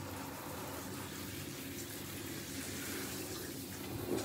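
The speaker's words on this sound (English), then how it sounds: "It's just water, baby girl." Tap water runs steadily throughout a dog's bath, a continuous even splashing rush with no pauses and no voices.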